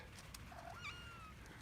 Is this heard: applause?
no